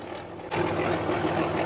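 Tractor engine idling with a straight pipe, same engine as a 1950T, a low chugging rumble that suddenly grows louder about half a second in and then holds steady, close and without talk.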